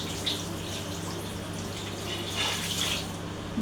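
Water splashes and trickles steadily while a cat is bathed, a continuous wet washing sound with brief louder splashes, close by and without talk.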